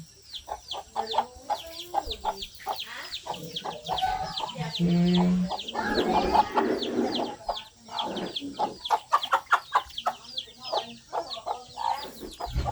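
Chickens cluck repeatedly close by in a home kitchen or yard setting, a busy run of short clucks and squawks with some background voices and clatter in the middle.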